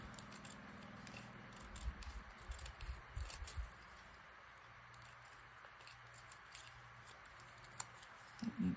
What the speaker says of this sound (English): I need to sharpen these scissors.